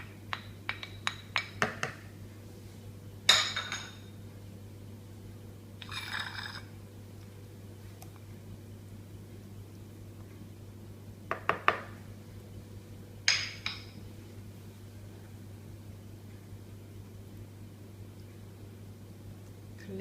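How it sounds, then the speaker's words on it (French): A spoon clinks against a bowl while other ingredients are folded gently into batter for a savoury cake with surimi, mushrooms and spinach. Scattered, close clinks and scrapes come in short bursts over a low steady hum. "on incorpore délicatement les autres ingrédients avec une cuillère pour qu'ils ne se miettent pas"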